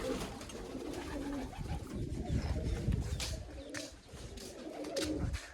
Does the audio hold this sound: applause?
no